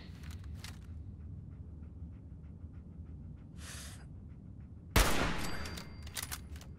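A sniper rifle fires in a video game, one loud sharp blast near five seconds with a ringing tail, after quieter rhythmic game sounds and a brief noisy burst.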